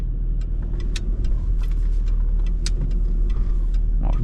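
A Jaguar S-Type with a 2.7 V6 diesel engine drives through Istanbul traffic, heard from inside as a steady low engine drone with faint scattered clicks and ticks over it.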